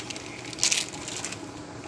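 A cooking ingredient is broken up in a pan with a short crunching squish partway through, set against a steady low sizzle from the pan.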